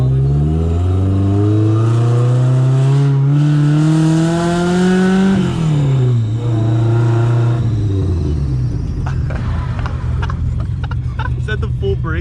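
A cammed Mazda Miata engine, bought cheap, revs hard while drifting, with loud climbing and falling harmonic engine tones, a sharp drop and re-rev, then rougher rumble and tire noise up close, with voices faintly underneath.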